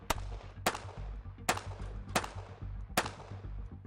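A carbine and a pistol fire at steel targets during tactical training, giving five loud, sharp gunshots spaced roughly evenly with ringing decay between them, and no talking.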